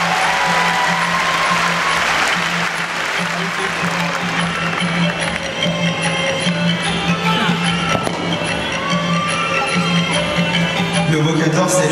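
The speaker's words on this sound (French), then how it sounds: "Vous pouvez les applaudir très très fort." Audience applause at a martial arts festival honoring visiting Cambodian Bokator masters, a dense, sustained wash of many hands clapping in a large hall, with a steady low hum and some crowd voices underneath throughout.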